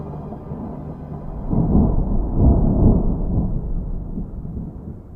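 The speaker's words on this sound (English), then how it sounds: "Ooh, thunder." Distant rumbling thunder rolling in low and swelling to a deep peak before slowly fading, with a faint steady background hiss.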